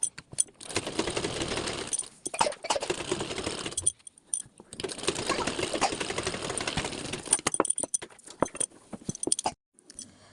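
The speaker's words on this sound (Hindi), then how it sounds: "बस आपको 1/2 इंच तक सिलाई चला देनी है नीचे की।" Domestic sewing machine stitching a half-inch seam along the lower edge of a back-neck blouse, running in steady bursts of rapid mechanical clatter with short pauses between runs, no talking.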